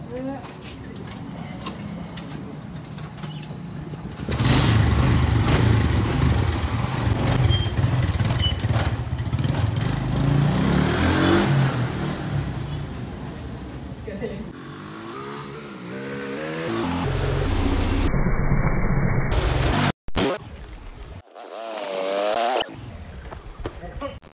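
A motorbike engine revs loudly and close for long stretches, rising and falling in bursts, with people talking over and between the engine noise.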